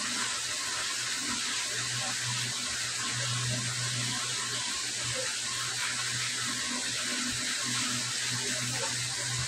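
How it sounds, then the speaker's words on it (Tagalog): Tap water runs steadily into a cooking pot being filled to boil pork chops, a continuous close hiss and splash with no talking. "naglagay na po ako ng tubig"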